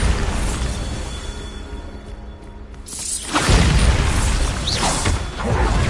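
A Bombarda explosion spell in Hogwarts Legacy gameplay goes off with a loud booming burst, followed by a rumbling roll of debris after a brief quieter lead-in.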